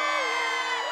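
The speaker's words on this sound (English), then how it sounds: "The Bartaloo will never come back if the crowd is this loud." Loud cartoon crowd cheering and whooping in a dense, continuous roar, with high excited voices rising and falling across the whole second.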